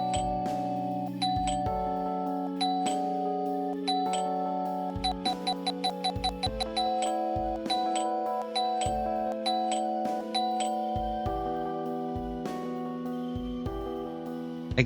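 A chiming game doorbell is rung again and again, its tones repeating throughout, sometimes in rapid bursts, over a steady soft musical background.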